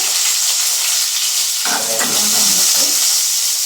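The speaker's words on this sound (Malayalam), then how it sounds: "സവാള ഇട്ട് കൊടുക്കാം" Loud, steady sizzling of onion frying in hot oil with mustard seeds and curry leaves, with a brief burst of crackling and stirring partway through; no talking.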